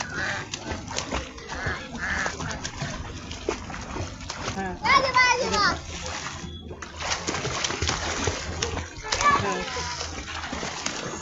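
Water splashes and sloshes in a pool while a child learns to swim, with uneven bursts of churning water under steady nearby talking and encouragement from an adult.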